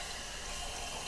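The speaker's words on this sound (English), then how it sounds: "put water in the sink where this one is, where the disposal unit is, just to see if water comes straight out again" Water pours steadily into a kitchen sink fitted with a waste disposal unit, a constant, even rushing with no voices.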